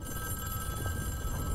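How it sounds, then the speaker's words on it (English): A phone rings during a Fortnite event, a steady electronic ringing tone with faint game ambience beneath and no speech. "Wait, phone call."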